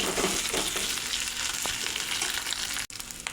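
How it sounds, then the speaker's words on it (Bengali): Onions frying in oil as a ginger, garlic and cumin paste goes in, giving a steady close sizzle with small stirring scrapes and one brief break near the end. "পেঁয়াজটা ভাজা হয়ে গেছে, এখন আদা, রসুন, জিরা বাটাটা দিয়ে দেব"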